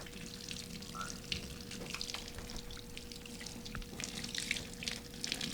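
Cold water is poured during care of a cow's prolapse, a steady wash of running, splashing water, quiet and continuous, with no speech.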